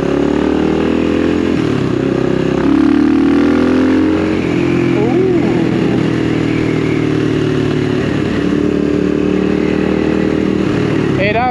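A CCM Maverick motorcycle rides at motorway speed, its engine note loud and close as it pulls and accelerates, with rising and shifting revs over rushing wind.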